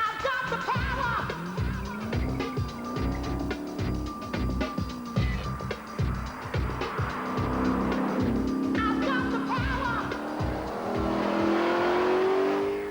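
A TVR 450 SE sports car with a Rover V8 engine revs loudly and steadily, its throaty drone rising and falling in pitch across repeated throttle blips, close by with no speech.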